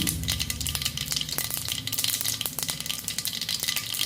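Mustard seeds popping in hot coconut oil in a pan while cheera thoran is being made: a steady loud sizzle scattered with sharp crackling pops throughout, and no one speaking.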